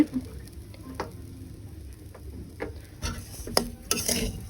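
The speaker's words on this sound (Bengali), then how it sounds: "তোলার একটা কমিয়ে সেমাইগুলোকে ভালোভাবে নেড়ে ছেড়ে বাছতে হবে" Laccha semai vermicelli stirred and fried in a pan over low heat, a steady soft sizzle with scraping stir strokes and light clicks of the utensil against the pan, close and alone.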